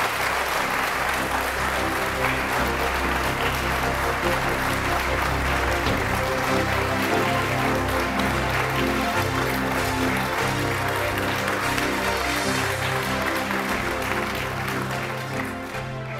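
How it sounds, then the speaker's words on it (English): A large audience at the 2013 Kenya presidential debate applauds steadily for about sixteen seconds, a dense, even wash of clapping with a low sustained hum running beneath it. "Let's give him a round of applause as well."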